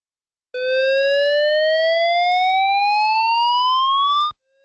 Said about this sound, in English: So what will an evacuation alarm sound like?